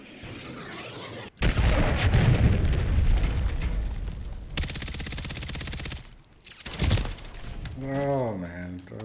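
Cruise missile strikes and explosions in Call of Duty Modern Warfare III erupt as loud, dense blasts mixed with heavy gunfire, continuing through most of the clip amid game voice chatter and effects.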